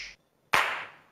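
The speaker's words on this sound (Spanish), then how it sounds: "La chapa amarilla va a representar un chasquido." A single sharp finger snap, close and crisp, ringing briefly into silence after a short cut-off sound before it.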